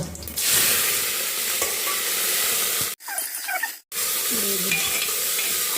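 Green chili frying in a pan with cumin, onion and ginger nearby, a loud continuous sizzle with stirring scrapes, briefly cutting out for about a second before resuming just as strongly.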